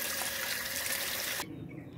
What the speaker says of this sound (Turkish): Yıkıp da geliyorum şu anda.